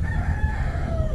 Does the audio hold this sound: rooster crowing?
yes